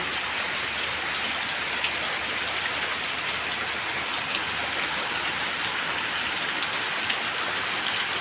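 Heavy rain pours down in a dense, unbroken roar of drops striking surfaces, loud and steady throughout with no voices.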